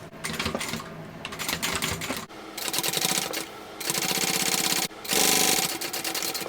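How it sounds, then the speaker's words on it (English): Sewing machine top stitching along a zipper pocket on a baby bucket bag, with bursts of fast, steady mechanical needle chatter separated by brief pauses, close and fairly loud. "we're going to top stitch along the zipper pocket"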